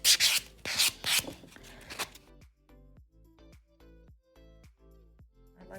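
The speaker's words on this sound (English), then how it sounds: "this is not a buffer block, it's just a regular file, but it's just finer than this one. So I'm going to smooth my nail out just a little" A fine nail file smooths the surface of a dip powder nail, giving a few loud, quick rasping strokes at first, then fading to faint intermittent scrapes and light taps up close.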